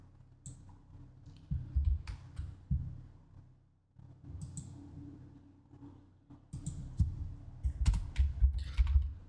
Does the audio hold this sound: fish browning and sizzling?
no